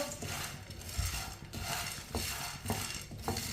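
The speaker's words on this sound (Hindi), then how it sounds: "इसी तरह चम्मच लाते हुए अच्छी तरह गर्म कर लेंगे।" A metal spoon scrapes and clinks against a pan as roasted black chickpeas are stirred and heated, with repeated rattling strokes and small knocks in a steady, close-up rhythm.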